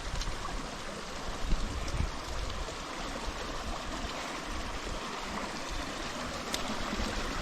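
Irrigation water flows in a steady, close rushing stream on a cucumber farm, with a constant broadband wash and no voices.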